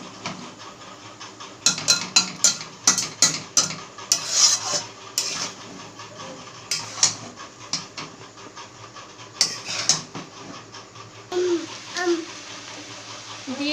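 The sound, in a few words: stir-frying boiled chow mein noodles with masala in a pan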